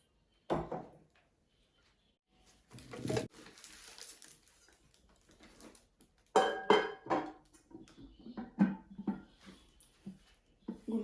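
Cooking pots being taken out and handled in a home kitchen before cooking shorshe ilish, with scattered metallic clanks and knocks, a few louder clatters and some quieter stretches between them.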